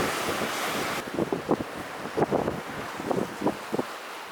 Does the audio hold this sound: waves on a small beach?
yes